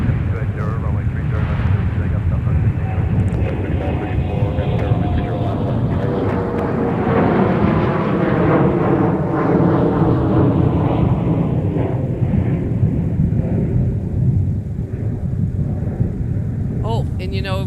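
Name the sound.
Delta Airlines airliner taking off at MSP airport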